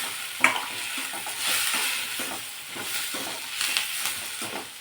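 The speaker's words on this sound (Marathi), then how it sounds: "हे अजून 1-2 मिनिटं आपण परतून घेऊ" Dum aloo masala gravy with coriander stems is sautéed in a pan, giving a steady sizzle under repeated scraping, stirring strokes with a quick clack near the start, close and moderately loud with no voices.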